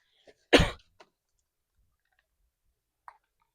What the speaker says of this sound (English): Sorry about the coughing, guys,